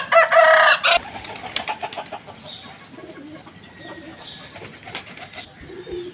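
Pigeons on a rooftop loft give a loud burst of calls in the first second, then fade to faint, scattered cooing and rustling against quiet outdoor background noise.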